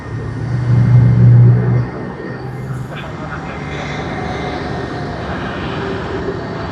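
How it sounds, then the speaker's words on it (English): Qantas airliner arriving from Jakarta at Sydney Airport, its engines a loud low roar for the first two seconds before fading into a steady distant rumble. "Do have Qantas coming in from Indonesia, Denpasar."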